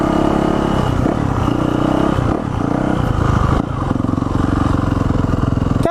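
A Yamaha motorcycle ridden by a child at a ride day revs loudly and continuously as it climbs a hill, its engine note rising and dipping with the throttle.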